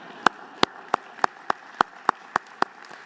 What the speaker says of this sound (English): But now please hold your applause.